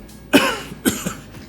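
A person coughs two or three times in quick succession, close and fairly loud, with a throat-clearing quality and no talking around it.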